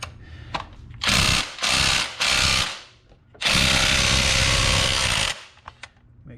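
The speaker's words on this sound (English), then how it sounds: "I'm going to loosen up the three that hold it to the transmission." A power tool, likely an impact wrench, loosens the transmission mount bolts on a 2005 Honda CR-V. It fires in three short loud bursts, then one long sustained burst, with clicks and quiet gaps between them.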